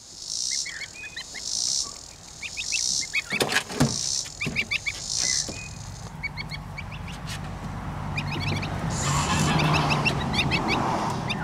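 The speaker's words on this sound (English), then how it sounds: "Goose, goose, goose." Embden goslings and geese honk in a series of loud, close calls over the first half, with steady insect chirping and cricket trills running underneath throughout.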